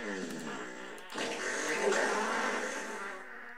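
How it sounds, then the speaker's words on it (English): A long, loud fart sound effect from a Doom mod, a raspy buzzing blast with a brief stutter early on, then sustained vibration for about three seconds. "And it plays a random fart sound"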